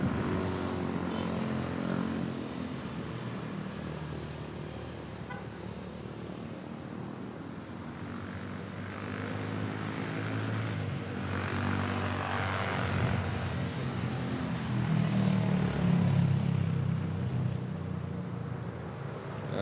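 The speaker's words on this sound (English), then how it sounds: "Let's take a look at this Cebu Pacific A330 Neo touching down from Chubu International" A Cebu Pacific Airbus A330neo touches down at Manila airport, its engines giving a steady broad rumble that swells louder toward the end, with a low droning tone underneath.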